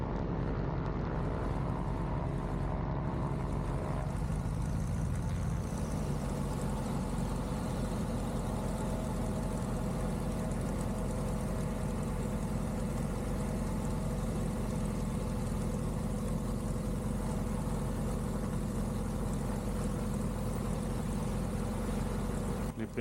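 A Rutan Boomerang asymmetric twin-engine aircraft's engines run in a low, steady drone while the plane lines up on the runway, fairly quiet and continuous throughout.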